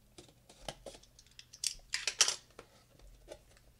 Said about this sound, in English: So I need to cut. I'll cut it right here.